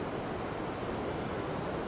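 Ocean waves on the Oregon coast, a steady, dense roar of surf washing in, fairly loud and continuous with no distinct breaks and no voices.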